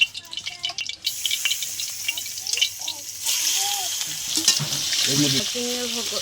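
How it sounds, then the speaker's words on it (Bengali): Shrimp sizzle and fry in hot oil in a wok, with a steady crackling hiss that grows busier partway through, while a voice talks over it now and then. "চিংড়ি মাছগুলো ভেজে নেবো।"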